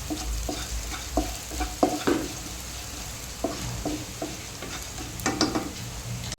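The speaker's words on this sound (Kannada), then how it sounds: "ಹಾಗೆಯೇ ಇದನ್ನು ಲೋ ಫ್ಲೇಮಲ್ಲಿಟ್ಟು ನಾವು ಫ್ರೈ ಮಾಡಬೇಕು" Coriander seeds frying in oil over a low flame, giving a steady soft sizzle throughout while a spoon clinks and scrapes against the pan in a run of separate, close strokes, with no talking.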